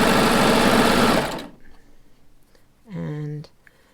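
A serger sews a draw cord strap in a fast, loud mechanical whir lasting about a second and a half, then stops, followed by quiet handling and a short higher-pitched motor tone.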